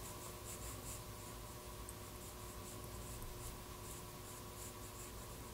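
A pencil scratches steadily across paper while drawing an eye's iris and pupil, a close, continuous soft rubbing with quick light strokes and no talking.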